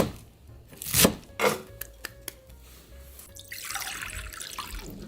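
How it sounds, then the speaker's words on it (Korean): Water parsley (minari) being chopped with a knife on a board into roughly 1 cm lengths for Korean minari pancakes, heard as a few crisp, close cuts followed by running water and dripping near a sink. "미나리를 총총 썰어 주세요"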